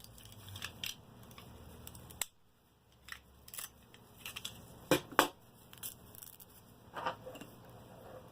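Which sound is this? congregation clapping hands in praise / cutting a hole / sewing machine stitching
cutting a hole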